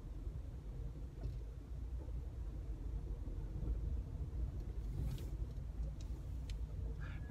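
Inside a multi-storey car park, a car rolls past with a low, steady engine rumble that swells and fades, accompanied by a few faint clicks and squeaks near the end; no talking.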